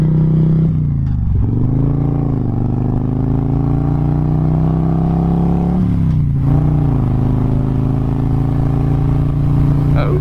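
A 2008 Harley-Davidson Road King's Twin Cam engine idles loudly up close and gets a couple of quick throttle blips that rise and fall, rumbling steadily throughout.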